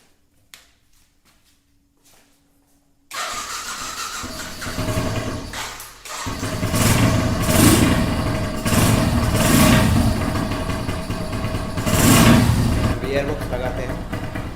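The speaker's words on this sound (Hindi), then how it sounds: "अभी बाइक चालू करके देखते हैं।" After a few quiet seconds, a 150cc motorcycle engine, choked for a cold winter start, starts abruptly and runs loudly, revving up and down in repeated surges.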